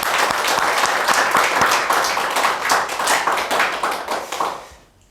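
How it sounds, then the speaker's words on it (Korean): A church congregation at an Easter Sunday service applauds together, a loud, dense burst of clapping sustained for several seconds before tapering off and fading out at the end. "하나님께 감사와 영광의 박수를 드리겠습니다"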